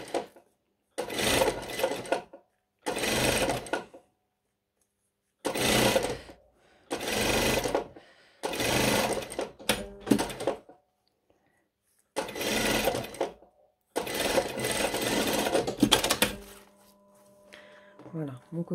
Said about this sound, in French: On va piquer bien sur les fronces et en même temps